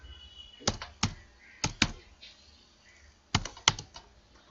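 A user ID is typed on a computer keyboard: quiet, close keystrokes fall in short clusters of two or three taps with brief pauses between, and no voices.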